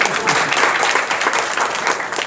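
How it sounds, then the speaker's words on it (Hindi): An audience breaks into applause at a company presentation, a dense burst of many hands clapping at once that holds steady for a couple of seconds before beginning to thin. "अच्छी है तो एक ताली बजा दीजिएगा"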